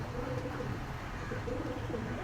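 Two big-sized Tulo pigeons at a pigeon market, low cooing murmurs repeating over a dense crowded background.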